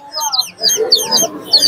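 Naked neck chickens cluck repeatedly at a busy Lalbag bird market in Rangpur, the calls coming in close bursts while people talk nearby.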